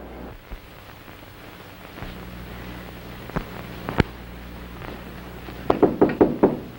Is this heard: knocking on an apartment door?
yes